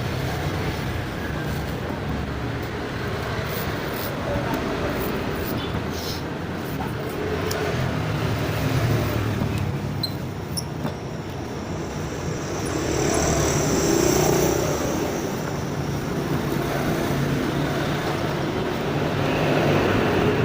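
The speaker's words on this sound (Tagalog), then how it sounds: "Medyo maingay, tabing kalsada lang tayo." Steady roar of roadside traffic, with vehicles rumbling past continuously and a louder surge now and then, no one speaking.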